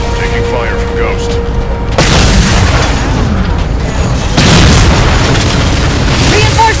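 Halo 4 combat: a Ghost vehicle fires on the player, with steady rumbling booms and dense bursts of gunfire under a loud, continuous battle roar, while voices call out over the din.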